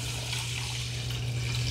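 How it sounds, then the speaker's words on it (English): Water pours steadily into the inner pot of a Ninja Foodi Everyday Possible Cooker Pro MC1101 for cooking rice, a loud continuous close-up splash and rush with no break and no talking. "let's pour our water in"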